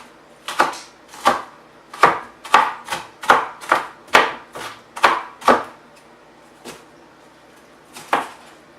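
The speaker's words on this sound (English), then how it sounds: "I'm gonna hurry up and finish chopping these." Knife chopping food on a board while cooking curry chicken, a dozen crisp, fairly close strokes in uneven bursts with short pauses, then two slower chops at the end, no talking.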